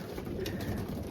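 Racing pigeons cooing at a loft, with soft, low repeated coos over faint background noise.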